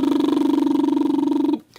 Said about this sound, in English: And then the third thing are lip flutters that sound like this.